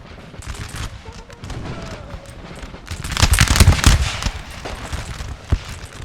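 Musket volleys from a Napoleon Total War battle at the 1812 Siege of Valencia, ragged crackling fusillades rising to a loud dense burst midway, with a single sharp shot near the end.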